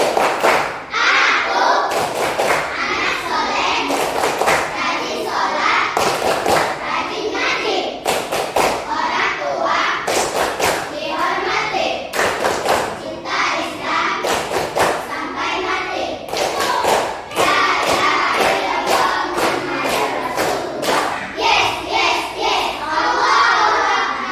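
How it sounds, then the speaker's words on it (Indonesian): Schoolchildren in a classroom perform the tepuk anak soleh clapping game, sharp rhythmic claps and thumps in patterned bursts, loud and close, mixed with children chanting along. "coba tepuk anak soleh"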